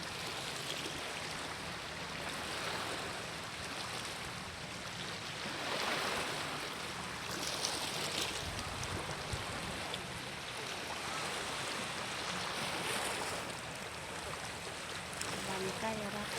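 Sea waves wash continuously onto Hat Yin Yom beach, a steady broadband surf with gentle swells rising and falling, heard as close, even ambience with no talk.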